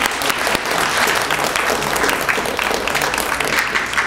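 A school arts program audience applauds its seniors with loud, dense, continuous clapping that holds steady for several seconds, close and full.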